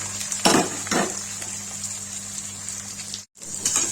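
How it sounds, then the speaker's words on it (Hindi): Chopped onion tipped into cumin seeds crackling in hot oil in a pan, a continuous close sizzle with two soft thuds early on and a brief drop to silence near the end. "जीरा डाल दिया। तड़क गया, इसमें डालेंगे प्याज।"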